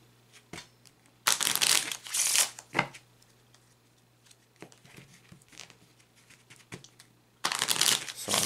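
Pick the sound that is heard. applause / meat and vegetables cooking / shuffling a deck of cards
shuffling a deck of cards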